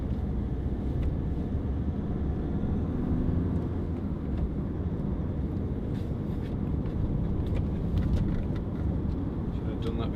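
A Honda CR-V 2.2 i-DTEC ES-T diesel station wagon drives along, heard from inside the cabin as a steady, close, low road and engine rumble that holds level throughout, with no voices.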